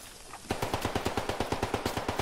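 Rapid automatic gunfire in a World War II shooter game, a steady burst of about fifteen evenly spaced loud shots starting after a brief quiet lead-in, with no talking.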